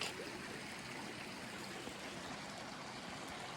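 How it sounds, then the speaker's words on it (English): Acrylic Creek on the Manistee River Loop Trail, running steadily as a close, continuous broadband wash of flowing stream water with no voices. "Made it to Acrylic Creek."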